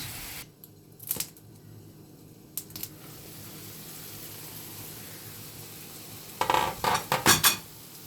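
A lid clanks onto a metal cooking pot of kaldirik stew: two single clinks early, then a quick cluster of rattling metallic knocks near the end, over a low kitchen hum.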